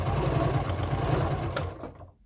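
A sewing machine stitches fabric in a fast, even mechanical whir with a steady rapid pulse, close and loud, then stops and falls quiet near the end.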